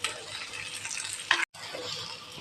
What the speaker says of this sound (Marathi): लसूण आणि चांगलं त्याला हे ढवळा.